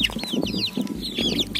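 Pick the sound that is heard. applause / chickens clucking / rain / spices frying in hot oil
chickens clucking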